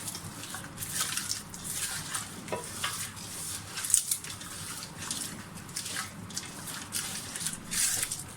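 Whole spices, bay leaves, cloves and cardamom are stirred in a Hyderabadi chicken dum biryani pot, with a soft sizzle and irregular scraping strokes, close and quiet, without talk.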